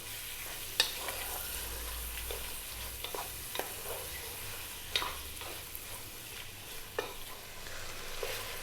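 Beef sears in a pan over high heat with a constant close sizzle, broken by occasional sharp clacks of stirring or shifting, no voices.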